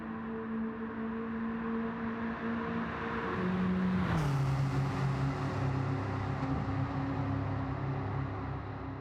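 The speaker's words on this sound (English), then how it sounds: "It's one of them cars with a bit of a muted exhaust note." Volkswagen Scirocco R in Gran Turismo 7 with a muted exhaust, a steady mid engine drone that climbs through the revs, drops sharply at a gear change, then settles into a lower, even hum.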